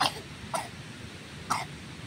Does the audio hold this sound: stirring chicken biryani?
no